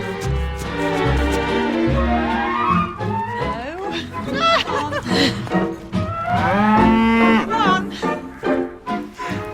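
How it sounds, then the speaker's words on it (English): Cows on the Isle of Man come into a garden, mooing and lowing close by in a string of drawn-out, wavering calls that overlap with people talking. "I've never seen cows come in like this into the garden."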